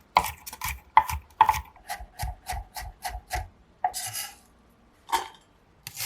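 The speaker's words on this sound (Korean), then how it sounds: "마늘은 칼 옆면으로 으깬 다음 굵게 다져주고 냄비에 넣으세요." Garlic crushed with the flat side of a knife and then coarsely chopped on a cutting board, a run of crisp, evenly spaced knife strikes with a few short pauses and scraping sounds, close and clear with no talking.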